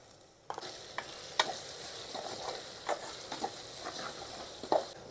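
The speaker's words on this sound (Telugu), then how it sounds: "ఒక స్పూను అల్లం వెల్లుల్లి పేస్ట్ అయితే వేస్తాను" Ginger-garlic paste and turmeric hit a hot pan and fry with a steady sizzle, broken by several scraping stirs and light clinks of a spoon.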